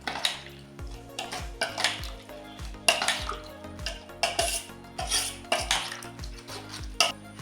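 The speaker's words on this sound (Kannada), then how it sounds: "ಇದಕ್ಕಿನ್ನು 2 ಸೌಟು ಮಜ್ಜಿಗೆಯನ್ನು ಸೇರಿಸುವ. ಇನ್ನು ಚೆನ್ನಾಗಿ ಮಿಕ್ಸ್ ಮಾಡುವ." A ladle stirring cucumber gojju mixed with buttermilk in a metal pot, with repeated clinks and scrapes against the sides in an uneven rhythm, close and clear.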